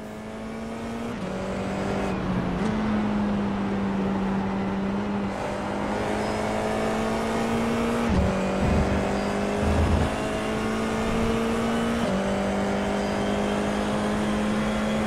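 An onboard Formula 4 race car engine drones loud and steady, its pitch stepping and shifting through gear changes as the car laps, with brief dips under braking.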